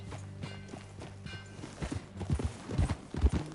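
Horse hooves clip-clop in the video game Red Dead Redemption 2, starting soft and growing into louder, closer rhythmic steps over a low steady background.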